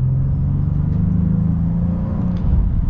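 A 2024 Honda Ridgeline Black Edition pickup accelerates, a steady, close, low engine drone and road rumble with no speech over it.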